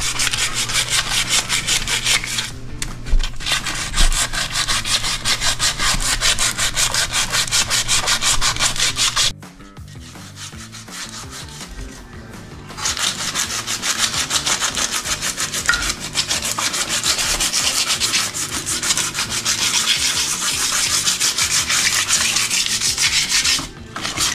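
Sandpaper rubbing old paint off a motorcycle's outer shock tube, a loud, close, continuous scratchy rasp with rapid back-and-forth strokes, briefly pausing near the middle before resuming steadily.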